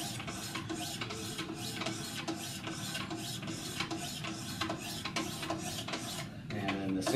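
Knife edge drawn across 400 grit stones on a Wicked Edge guided sharpener, a steady run of close rasping strokes in a regular back-and-forth rhythm, continuous and fairly loud with no talking.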